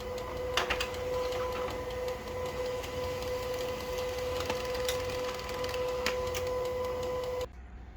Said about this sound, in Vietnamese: các bạn sẽ bấm vào nút này thì máy in nó sẽ tiếp tục lệnh in